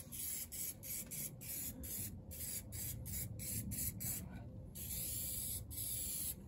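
An aerosol spray can paints a repaired rear wing of a Peugeot 205 in freezing cold, with rapid short hissing bursts in a quick rhythm, close and steady, ending in longer sustained sprays.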